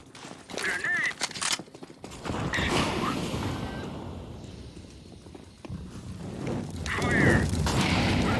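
Grenade blasts and gunfire in the video game CS:GO, with heavy booming explosions, sharp shot cracks, rumbling aftermath and bursts of clatter, loud and dense throughout.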